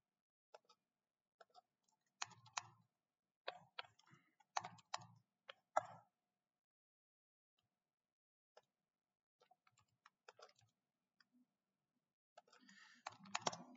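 Clusters of light clicks from a computer keyboard as a new post is typed, irregular bursts separated by pauses and a denser run of keystrokes at the end, quiet and close.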